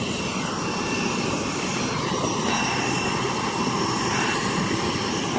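A jet airliner roars steadily at Springfield-Branson National Airport, a loud, continuous broadband engine rush that holds without break, close and alone with no voices.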